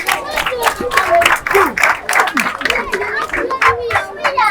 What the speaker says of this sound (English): Can we clap for him? For the new classroom he has built.